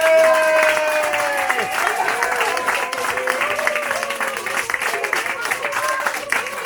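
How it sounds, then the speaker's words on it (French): A crowd at an indoor gathering in Montbéliard breaks into thunderous applause, the dense clapping mixed with cheering and raised voices throughout. "un tonnerre d'applaudissements pour Laurent Corinne"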